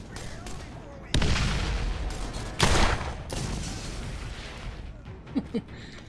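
Weapon blasts in the Borderlands video game, a loud booming explosion followed by a second heavy burst, each trailing off into rumbling debris, with softer pops near the end.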